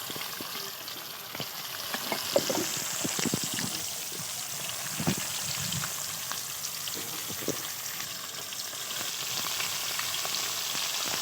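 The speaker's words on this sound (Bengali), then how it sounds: "দেখেছো মাছটা কত সুন্দরভাবে ভেজে নিচ্ছি" Chela fish frying in a pan: a continuous, fairly soft oily sizzle with scattered crackles and pops that runs unbroken for about eleven seconds.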